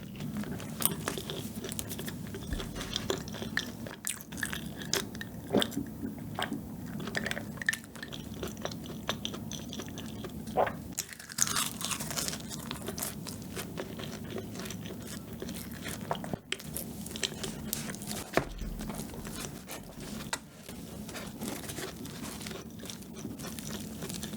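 Close, crunchy bites and steady chewing of old-style Busan bakery bread studded with walnuts, with soft crinkling of packaging between mouthfuls and no talking.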